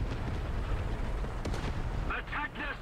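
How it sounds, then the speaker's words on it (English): Muffled gunfire from the video game War Thunder crackles over a dense rumbling background, with a few distant bursts and sharper reports near the end. "I'm hearing some gunfire."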